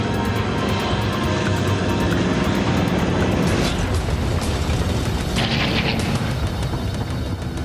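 Air Midwest flight 5481, an airliner, roars loudly and steadily as it takes off, a dense, continuous rumble that grows hissier and brighter toward the end.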